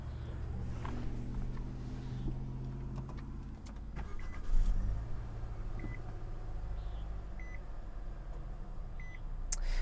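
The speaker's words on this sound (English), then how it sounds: "let's go ahead and get inside and start it up" A 2020 Nissan Sentra SR is started, with a brief cranking surge, then a steady, low idle hum under a few scattered clicks and repeated small interior beeps.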